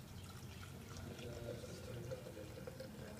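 Water poured into a container of magnesium hydroxide during a chemistry demonstration, a steady splashing, trickling flow that continues evenly throughout, fairly close and moderately quiet.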